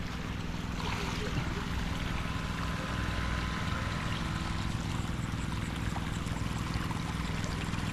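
Engine-driven water pump running while watering bitter gourd plants in a field, a steady broadband drone with a rushing, splashing water wash throughout, moderately distant and even.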